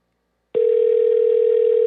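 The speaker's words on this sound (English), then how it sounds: "Looks like his landline's actually ringing." A landline telephone ringback tone starts abruptly after a moment of silence, then holds as one loud, continuous steady pitch with a faint regular pulse.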